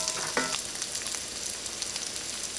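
Garlic sautéing in a hot pan, a steady close sizzle with a brief clink and stir scrape near the start, no talking.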